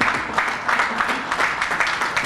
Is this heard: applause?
yes